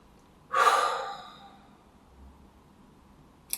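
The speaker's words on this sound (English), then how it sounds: "just take a deep breath" A single deep breath drawn in close to the microphone, a loud breathy inhale that fades slowly into quiet.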